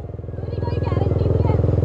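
A KTM Duke 390 motorcycle engine revs in rising pulses during a first riding lesson, the throttle blipped repeatedly and close by while people talk over it.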